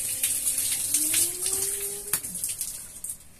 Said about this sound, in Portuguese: E aqui temos a água quente.